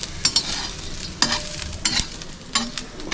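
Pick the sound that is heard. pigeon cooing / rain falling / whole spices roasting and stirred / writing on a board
whole spices roasting and stirred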